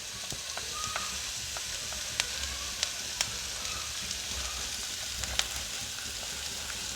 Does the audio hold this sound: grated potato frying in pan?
yes